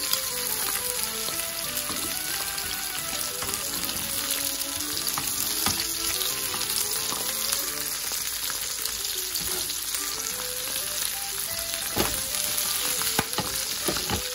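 Chicken thighs and potatoes crisping in a pan give off a steady, dense sizzle with occasional sharper pops, holding at an even level throughout with no one talking.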